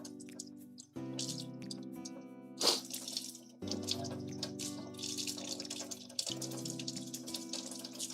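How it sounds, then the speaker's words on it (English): A whisk is rinsed under a running kitchen tap, a steady close stream of water with splashing and shifting tones as the whisk moves through it, with no talking. "Do you guys like how I'm washing my whisk?"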